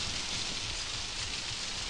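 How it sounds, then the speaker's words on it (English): Steady rain in the horror video game Outlast, a dense even hiss of drops with low rumbling underneath, continuous and close. "it's pretty much like it's actually raining on my fucking ears"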